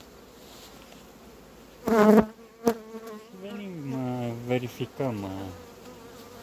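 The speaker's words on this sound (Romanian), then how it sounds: "anumite colonii de albine" Agitated honeybees buzzing around hive colonies in a Romanian apiary in mid-May, a dense continuous drone close by, with someone speaking over it.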